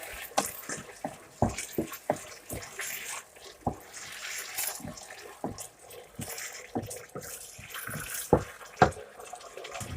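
Water added to a pan of prawns and shellfish while cooking seafood spaghetti with tomato sauce: irregular splashes, drips and clinks repeat at close range over a soft running-water hiss, with no voices.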